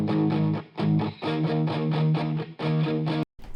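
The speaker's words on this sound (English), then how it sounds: "Nice thick guitar sounds." A crunchy, lightly distorted electric guitar plays a pop rock part in rhythmic chopped chords. It is loud and upfront and ends in an abrupt cut.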